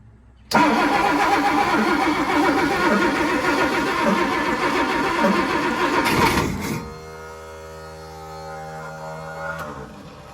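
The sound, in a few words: boat engine starter motor cranking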